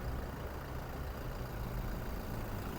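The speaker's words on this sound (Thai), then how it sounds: "เครื่องยนต์เดินอยู่นะ" Toyota Fortuner 2.4V diesel engine from 2016 idling steadily, a continuous low rumble heard up close with no one talking over it.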